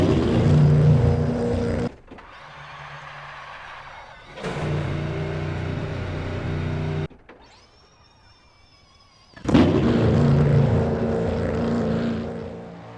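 A Cadillac LMDh race car's 5.5 liter naturally aspirated V8 bump-starting in a racing sim: loud, dense engine roar that drops away and surges back several times, with a thinner whining stretch before a final strong burst.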